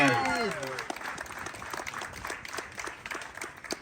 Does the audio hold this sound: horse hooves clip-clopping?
no